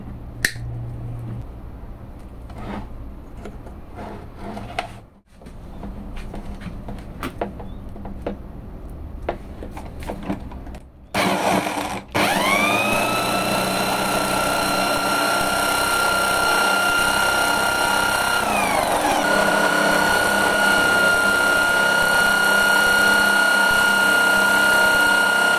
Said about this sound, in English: Well friends, we have seen the ignition power of all coils with a simple CDI.